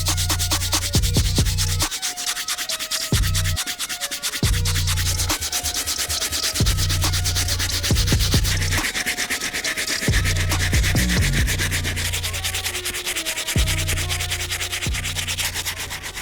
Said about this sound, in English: We're going to be using our stiff bristle brush to get these soles back to as white as possible.